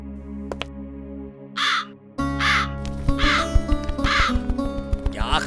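A cartoon crow caws several times in harsh, loud bursts over a steady background music bed, the calls spaced a fraction of a second apart.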